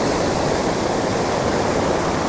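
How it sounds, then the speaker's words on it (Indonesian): River current meeting sea waves at the mouth of Lake Likotobi on Taliabu's south coast, a loud, unbroken rushing roar of turbulent water, with no voices. "Jadi ini pertemuan arus, tekanan arus sungai dan pertemuan dengan gelombang laut."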